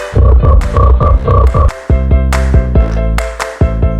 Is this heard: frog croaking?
yes